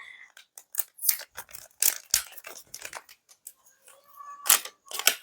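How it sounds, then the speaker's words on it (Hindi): Prega News pregnancy test kit packaging being opened by hand, a run of sharp crinkling, tearing and snipping rustles that come in short irregular bursts, close and fairly loud, with brief pauses between. "चलिए मैं इसको खोल करके भी आपको दिखाती हूँ कि इसके अंदर आपको क्या क्या चीजें मिलती है"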